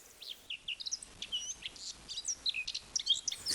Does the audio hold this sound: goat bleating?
no